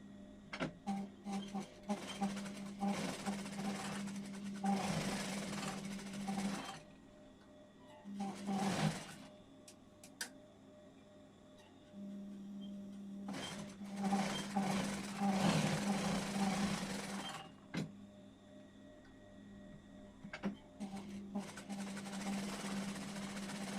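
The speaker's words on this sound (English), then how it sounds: "Now that is my sewing, stage 1, complete on all of these." A sewing machine stitches quilt half square triangles in long steady whirring runs, pausing briefly between seams, with a faint hum in the quiet gaps.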